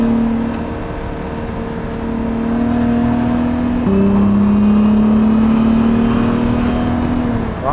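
An MK2 Volkswagen Golf with a swapped-in R32 engine, 4x4 and DSG, rated around 250 horsepower, idles and revs up, the engine note climbing, dropping briefly, then rising again and holding loud and close.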